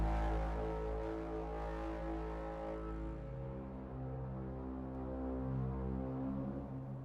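Synth patch evoking the alien bellow from War of the Worlds in a dark tech house track: a sustained, droning low roar with layered tones that shift and waver slowly, fairly faint and alone.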